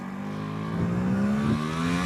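A Vespa GS150 scooter fitted with a SIP performance tuning kit revs steadily and loudly up close, its engine note holding a strong buzzing tone that swells slightly midway through the short burst.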